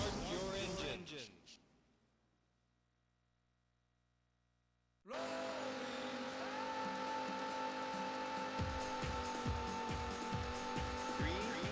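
Race car engines in a Sega Saturn racing game, beginner course with automatic transmission: a pre-race announcer voice, a few seconds of near silence, then loud, steady engine drone joined by rhythmic pulsing revs at the start.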